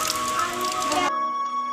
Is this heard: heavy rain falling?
yes